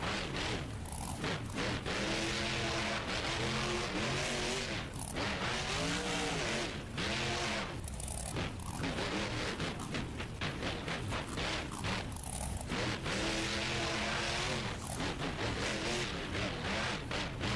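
Simulated monster trucks roar through a Monster Jam stadium event in the BeamNG driving game. Engines rev and surge continuously with loud, rising and falling pitch, and tires squeal and skid in short bursts throughout.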